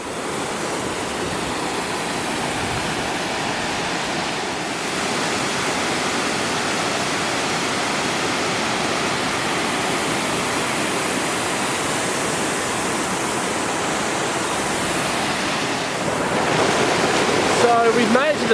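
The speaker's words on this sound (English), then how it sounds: "Not a huge waterfall by any stretch, but it's kind of goes over several cascades and obviously a really good flow of water" Fish Falls near Mackenzie Falls in Victoria spills over several cascades, a steady, loud broadband roar of rushing water close by that holds even throughout, swelling slightly near the end.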